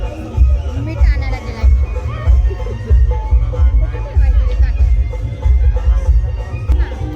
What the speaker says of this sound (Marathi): जेवणाला गर्दी पडलेली बघू शकता आपण